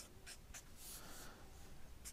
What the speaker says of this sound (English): And then here, you write like this.